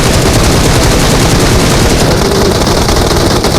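Loud, dense gunfire from the mobile battle royale game PUBG Mobile rattles continuously in rapid automatic bursts, saturated and close for the whole stretch.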